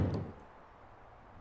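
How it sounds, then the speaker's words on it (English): An old bedroom door is pushed slowly and softly open in a dark room, a dull knock-like thud at the start that fades into a low, quiet creak and near silence. "I continued to push the door, slowly,"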